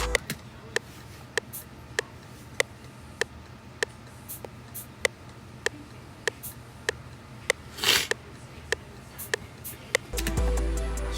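A sparse shaker-style percussion beat runs under a steady metronome, with evenly spaced sharp clicks ticking through about ten seconds and a brief louder burst near the end before a low sustained tone enters.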